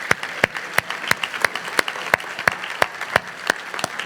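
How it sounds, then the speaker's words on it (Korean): A church congregation claps steadily together in an even, rhythmic beat, loud and close, with no talking over it. "박수 한번 쳐도 좋을 것 같아요."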